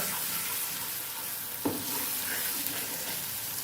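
A breakfast mixture sizzles steadily in a frying pan while a utensil stirs and scrapes through it, with one sharp knock of the spoon against the pan partway through, close and continuous, no talking.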